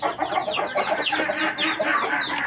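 A sick black Aseel hen clucks repeatedly in quick, rhythmic bursts, close by and fairly loud, with no other sounds.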